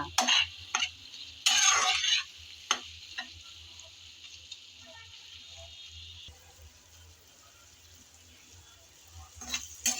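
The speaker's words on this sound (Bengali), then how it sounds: "সবগুলো মশলা একসাথে ভালোভাবে নেড়ে চেড়ে আবারও কষিয়ে নেব" Spices stirred together in a pan for a prawn pickle: a quiet continuous sizzle with scattered spoon clicks and a couple of louder bursts of scraping early on, close by and without voices.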